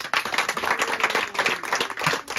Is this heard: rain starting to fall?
no